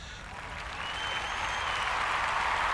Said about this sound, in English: Hey, who's applauding?